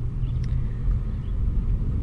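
Steady low rumble of road and engine noise from inside a moving car, continuous and moderately loud with no talking.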